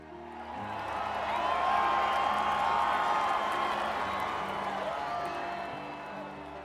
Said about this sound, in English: The crowd responds with an enthusiastic roar.